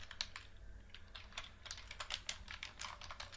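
Keys clack on a computer keyboard in quick, uneven bursts, close and quiet, with no voice over them.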